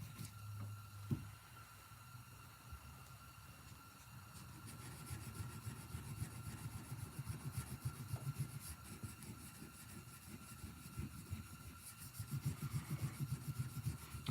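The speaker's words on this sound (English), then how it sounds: "sanding the inside of the spring that you see the top of it when you look down in the channels." Sanding inside the spring of a custom Case Sodbuster folding knife: soft, rhythmic rubbing strokes, close and quiet, growing busier and louder toward the end, with a faint steady hum in the background.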